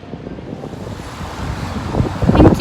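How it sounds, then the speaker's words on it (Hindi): Strong wind blows across the open deck of a ship at sea, carrying light spray, a buffeting roar that builds louder toward the end with surging water beneath, and no talk. "हमें यहाँ पे फील हो रही है लाइक हवा के साथ हल्का हल्का पानी उड़ रहा है"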